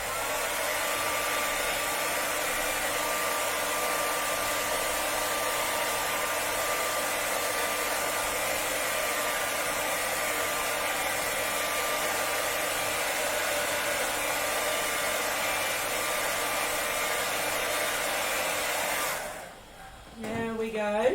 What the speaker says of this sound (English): I need to quickly grab the hairdryer